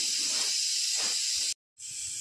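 A pressure cooker hisses steam loudly and continuously, broken by a short silent gap before the hiss resumes.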